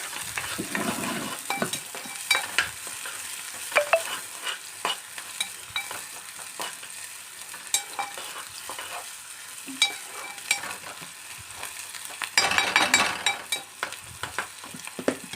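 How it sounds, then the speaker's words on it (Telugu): Onions sizzling in a hot pan for a Telangana-style goat liver fry, with frequent sharp scrapes and knocks of a spoon stirring against the metal, close and busy, louder toward the end. "ఆనియన్స్ వేసుకోవాలి, కలుపుకుందాం."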